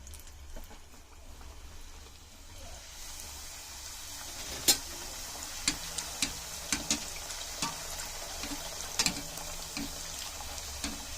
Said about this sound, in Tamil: எண்ணெய் காஞ்சிருச்சு, நம்ம போட்டு பொரிச்சு எடுத்துக்கலாம்.